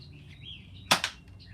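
A toy Nerf gun firing a half-length dart, two quick sharp pops in close succession, close and clear against faint background sound.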